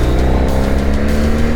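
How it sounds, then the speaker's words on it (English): Subaru WRX with a boxer engine, a steady continuous engine drone that sounds close and loud, with no talking over it. "The WRX. Boxer engine. They always sound good."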